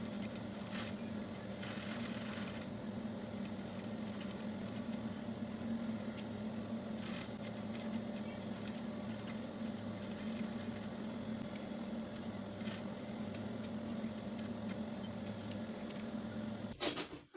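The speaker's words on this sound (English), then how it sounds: "I'll be taking this to my sewing machine and run a stitch around it" A sewing machine runs a stitch around a piece of fabric, giving a steady, even mechanical whir with no pauses and a few faint clicks on top, stopping abruptly right at the end.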